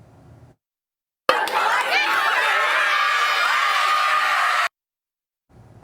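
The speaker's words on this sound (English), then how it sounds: "you just heard them cheering on because those seniors dressed in their caps and gowns" High school students and teachers cheer seniors in caps and gowns on their traditional senior walk, a loud burst of whoops, shouts and crowd chatter lasting a few seconds between quiet stretches.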